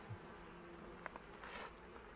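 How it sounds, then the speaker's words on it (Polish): Honeybees hum around a beehive while a bumblebee tries to get in at the entrance; a faint, steady buzzing drone runs throughout, with a few brief louder passes as insects fly close. "jakiś trzmiel próbuje się, próbuje się do ula dostać"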